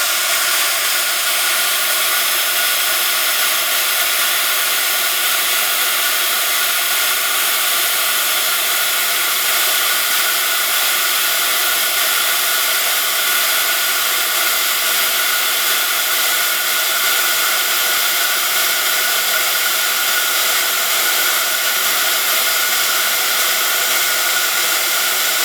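A heat tool sets silver embossing powder on a layered Christmas bauble card, giving a steady, close, continuous blowing whoosh and hiss that holds unchanged for the whole stretch with no talk.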